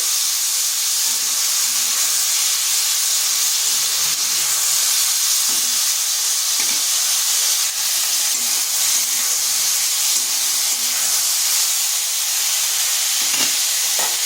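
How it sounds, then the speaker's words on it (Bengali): Ivy gourd (kundri) pieces fry in a pan with turmeric and salt, giving a continuous loud hissing sizzle with occasional soft stirring knocks. "কুঁদরিটাকে এভাবে একটু ভেজে নিচ্ছি।"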